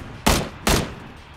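Two sharp gunshots in PlayerUnknown's Battlegrounds, about 0.4 seconds apart, loud and close, each with a short decaying tail over quiet game ambience.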